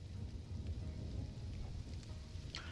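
Steady rain with low rumbling thunder fills a storm scene in the video game Stranded: Alien Dawn, a continuous wash of noise with no talk over it.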